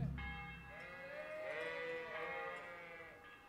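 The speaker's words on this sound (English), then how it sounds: "Why are we in a field of sheep?" Sheep bleat in a wavering, nasal chorus in the video game Kingdom Come: Deliverance, a few overlapping calls drawn out over a faint background hum, fairly quiet overall.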